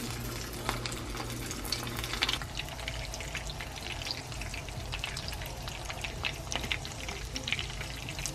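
Coconut-flake-coated, egg-battered shrimp fry in hot avocado oil with a steady, dense sizzle and crackle that continues without letting up.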